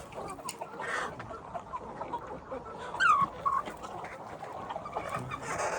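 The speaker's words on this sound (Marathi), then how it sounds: "ही छोटी पिल्लं आहेत आणि मोठी जी कोंबडी झाली असेल ती दुसऱ्या पार्टमध्ये आहे" Hens and young chicks at a poultry farm near Alibag in Raigad give soft clucks and a brief louder squawk midway, amid a low farmyard background.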